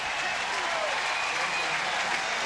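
A college football stadium crowd at Virginia versus Clemson roars and applauds in a dense, sustained wall of cheering that swells steadily and never drops away.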